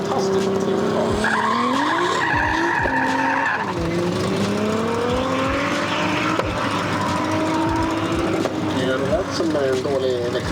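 A BMW with a Toyota engine revs hard at a street racing event, tires squealing and skidding, loud and continuous, with voices talking over the noise.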